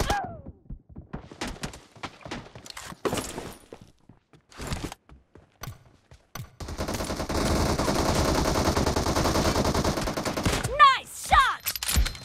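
Sustained automatic gunfire from the PUBG battle royale game, played as a benchmark on a POCO F1 phone, forms a dense continuous burst in the latter half after scattered shorter shots and some talk.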